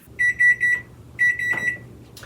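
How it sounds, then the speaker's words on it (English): A kitchen timer going off while cookies bake, with two bursts of rapid, high electronic beeping separated by a short pause, loud and close over a faint background. "Our timer just went off."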